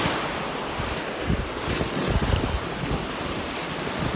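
Ocean waves and wind at Orange Beach, Alabama: steady broadband surf wash with gusty wind buffeting the microphone, loud and close with no talking.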